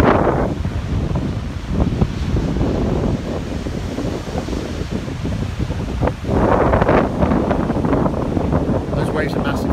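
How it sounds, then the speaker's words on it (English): Large storm waves crash and roar on a Mataró beach after Storm Gloria. Strong wind buffets the microphone throughout, the surf swelling louder in the later part. "Those waves are massive."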